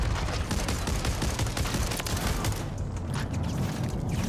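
Shotgun fire in Call of Duty MW3 with a Haymaker loadout, dense rapid bursts of gunfire crackling almost without pause against heavy low rumble, loud and close throughout.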